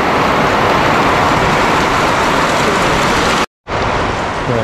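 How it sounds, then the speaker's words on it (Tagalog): Steady, dense rain roars without a break, a broad wash of noise that cuts out briefly near the end before resuming just as heavily. "Lakas ng ulan."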